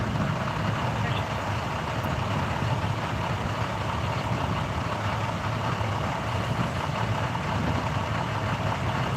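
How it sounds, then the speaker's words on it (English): Steady low engine drone from a truck idling right alongside, constant and close, with wind noise over it on a Denver street. "Can't even hear my radio because of this truck next to me."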